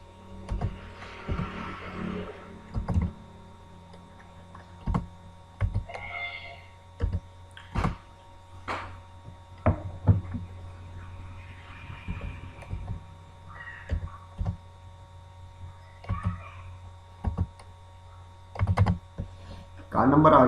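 Card number being typed on a computer keyboard: scattered single key clicks and short bursts of taps, close and fairly crisp, spread over twenty seconds with quiet gaps and a brief louder rustle at the end.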